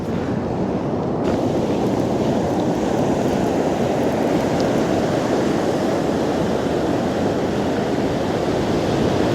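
Sea waves wash onto Cullen Beach on the Moray Coast after a storm, a steady broadband surf roar with wind buffeting the microphone, continuous and fairly loud with no voices.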